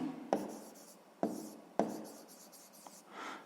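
A pen writes out a sixth-grade maths exercise, a few quiet scratching strokes with sharp onsets and short pauses between them, close by in a quiet room.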